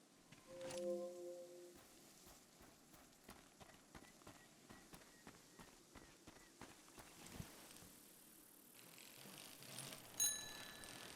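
A bicycle bell rings once, a bright, ringing chime early on, in the video game Seasons: A Letter to the Future on a fruit farm, followed by a steady run of soft rhythmic clicks and faint ambience.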